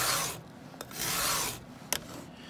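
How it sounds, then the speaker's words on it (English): Hand file sharpening the teeth of a chainsaw chain, heard as a few slow, rasping metal strokes with short pauses between them, close and fairly quiet. "whenever you're filing, there's several different ways you can do it"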